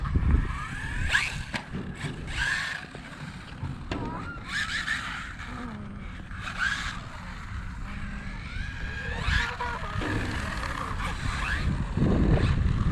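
A RLAARLO AMX-12 RC car drives around, its electric motor whining in repeated rising and falling bursts as it speeds up and slows, heard fairly close over outdoor background noise.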